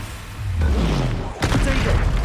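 Spell blasts from Confringo and Bombarda in the Hogwarts Legacy game, a booming burst followed by a second sharp explosive crack, loud and close over game noise and a speaking voice.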